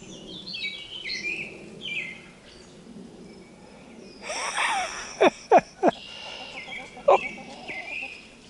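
Short, sharp clucking calls from a few chickens ring out in a quick cluster, over softer background birdsong and faint outdoor noise.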